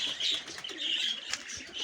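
Domestic pigeons coo in a loft in Kherson, their soft, rolling calls repeating close by with a few brief chirps and a rustle of wings.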